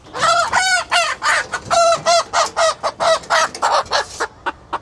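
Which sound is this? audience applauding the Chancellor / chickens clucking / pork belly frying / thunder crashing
chickens clucking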